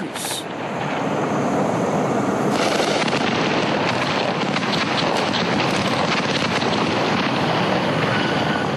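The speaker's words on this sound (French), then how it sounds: "2 hélicoptères français tirent sur la foule" French military helicopters over a crowd of protesters in Côte d'Ivoire in November 2004 give a loud, continuous roar of rotor and wind buffeting. Faint sharp cracks may be shots.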